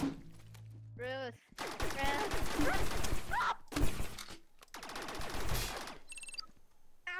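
Rapid gunfire in the Rec Room video game, bursts of shots crackling across most of the clip in a busy, close mix, broken by short gaps, with a player's voice talking over it.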